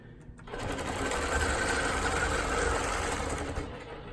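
A longarm quilting machine stitches a straight line during ruler-guided diagonal crosshatching, giving a steady, close mechanical whir that starts after a brief pause and holds evenly without any voices.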